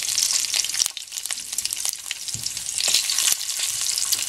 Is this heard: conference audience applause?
no